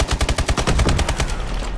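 Rapid automatic gunfire in a first-person shooter video game, a loud close burst of about a dozen evenly spaced shots that trails off into a ringing tail.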